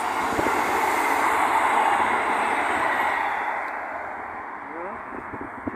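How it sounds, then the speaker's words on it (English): A Shrewsbury train rumbles past near an old viaduct by the Birmingham Canal at Galton Bridge, with a broad roaring hiss that fades over a few seconds, with brief voices near the end. "It's a Shrewsbury train, I think. One of the trains what's going that way."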